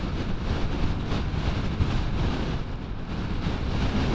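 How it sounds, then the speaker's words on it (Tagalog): Strong wind buffets a rider's microphone during a solo motorcycle ride from Vigan City toward Pamplona, Cagayan, in the Philippines, making a steady, loud, low roar that fills the whole stretch with no talking. "Grabe, ang lakas ng hangin."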